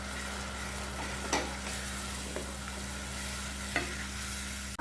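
Tomato puree is stirred into a ghee-based gravy in a pan, a soft continuous sizzle under a steady hum with a few sharp scrapes of a spoon against the pan.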